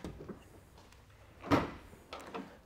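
Rear cargo doors of a white 2016 Ford Transit T250 van clunk open, with one firm latch thump in the middle and a couple of softer knocks after, fairly quiet and close.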